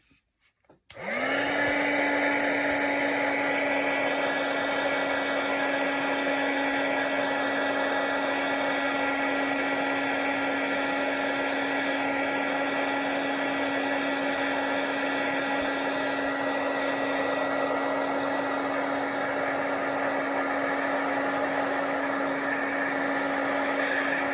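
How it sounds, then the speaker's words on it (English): A hair dryer switches on after a moment and blows steadily with a constant whirring hum, close and loud for the rest of the stretch. "this time instead of blotting it, I'm going to hit my dryer on it"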